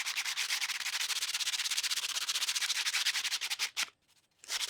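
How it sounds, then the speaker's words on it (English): Scrap wood sanded by hand with coarse 40 grit sandpaper, a loud, close, fast rhythmic rasp of steady strokes that breaks off briefly near the end, then starts up again. "The radius is too tight for the orbital sander, so I'll sand this one by hand."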